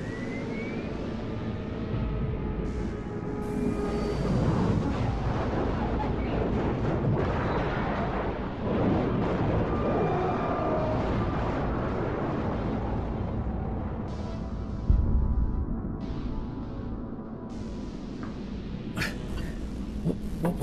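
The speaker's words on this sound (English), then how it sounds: "What was that? Explosion?" A burning rocket ship crashes nearby in a dramatized scene, giving a loud, sustained explosive roar and rumble with crackling debris and a sharper burst late on, with no voices.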